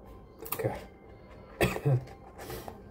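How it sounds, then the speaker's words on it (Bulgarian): A man who is a little sick coughs three times in short, throaty bursts, close to the microphone, with quiet handling noise between the coughs. "Кашлям."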